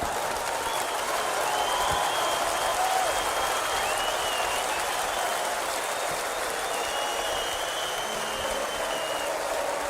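A large concert audience applauds and cheers in a steady, dense wash of clapping that holds at full volume for the whole stretch, with no pauses or voices standing out.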